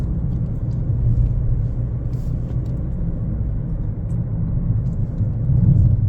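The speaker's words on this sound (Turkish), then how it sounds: "Lastik sesi var. Lastik sesi geliyor." Inside a post-2020 Peugeot 2008 on the road, a steady low rumble of engine and tire noise drones continuously at fairly loud level, without speech.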